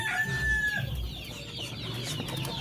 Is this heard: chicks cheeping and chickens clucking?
yes